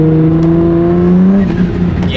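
A car engine drones loudly and steadily at high revs while its worn clutch slips in fourth gear, the pitch holding and then sagging slightly, with no voices.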